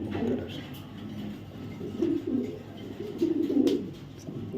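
Racer pigeons coo in soft low bursts, a few rolling calls from nearby birds rising and fading over a quiet background.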